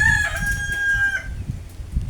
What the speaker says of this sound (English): Those rooster there.